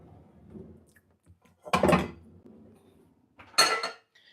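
Metal pot handled in a home kitchen before boiling eggs, two distinct clanking bursts over a low background murmur.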